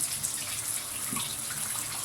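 Water from a home shower runs in a steady, close, continuous broadband rush, with no talk over it.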